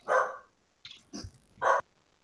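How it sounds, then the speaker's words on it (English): A dog barks three times in close, loud bursts with short gaps between them, the second bark broken and uneven, heard on its own without talk. "The dog's vocal."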